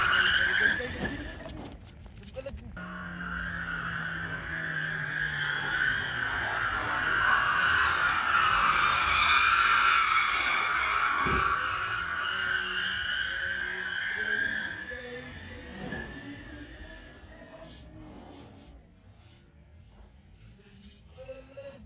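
A Honda Civic's tires squeal and skid through a long handbrake drift, a sustained, loud screech swelling and fading over twenty seconds with engine noise beneath and people talking over it.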